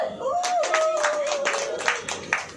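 Congregation at a church sermon clapping, a loose scatter of hand claps with a voice and some singing or chanting over it.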